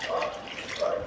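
Water pours steadily into a pot of fish curry, a brief gurgling splash with a bright, wet texture.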